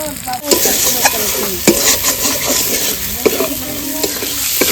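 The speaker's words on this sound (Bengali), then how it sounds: "মশলাটা কষানো হয়ে গেছে" Masala with turmeric and salt sizzles steadily in a pan for duck curry, a continuous close frying hiss broken by several sharp stirring scrapes of a spoon against the metal.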